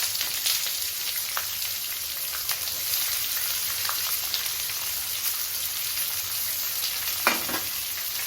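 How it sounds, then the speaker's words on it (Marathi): Onion sizzles in hot oil with curry leaves and mustard seeds, a steady close crackling hiss broken by a few sharper spatters and the scrape of stirring. "आता यात आपण कांदा छान असा लाल करून घ्यायचा आहे."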